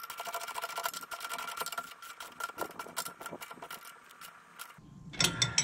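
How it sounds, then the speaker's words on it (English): A ratchet wrench tightens a 19 mm bolt on a Metalcloak tie rod steering stabilizer, with rapid close clicking of the pawl in quick bursts, then a louder metallic rattle near the end. "So tighten it all the way down."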